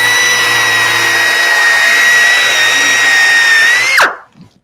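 A Dynabrade power sander fitted with a flexible sanding star scuffs a raised panel. It gives a loud, steady high whine that winds down abruptly near the end, and no one speaks.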